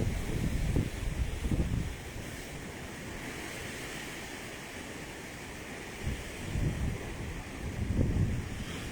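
Storm Eunice waves break at Ilfracombe Harbour on a spring tide, with several loud surging crashes rising and falling over constant gusting wind rumble on the microphone.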